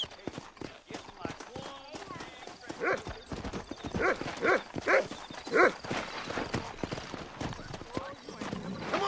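Horse in the Red Dead Redemption video game clip-clopping along in a steady gallop, hoofbeats rising and falling, with a few louder bursts and someone talking over the hooves.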